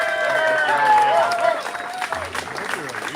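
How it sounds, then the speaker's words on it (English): A crowd at a rally outside the Russian Consulate cheers and applauds loudly, with voices mixed into the clapping at first before the noise settles into a busier, more scattered roar. "Let's have another cheer for him."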